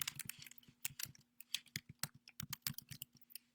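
Rapid, uneven keystrokes clatter on a computer keyboard, close and fairly quiet, with a faint steady hum underneath.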